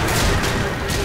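A landmine blows up in the video game Left 4 Dead 2: a dense, loud roar of blast and gunfire noise fills the whole moment without a break.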